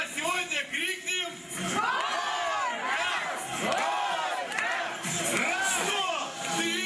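A large crowd of children at a clown's party show shouts together in loud, sustained drawn-out cries, rising and falling in several waves, with bursts of adult talk near the start.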